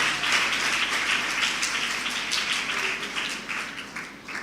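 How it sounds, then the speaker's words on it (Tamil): Church congregation applauds during a sermon by Rev. J. Justin Moses, with a dense, sustained wash of many hands clapping together that slowly fades, with no talk over it. "ஒரு கைத்தட்டு கொடுத்துருங்க."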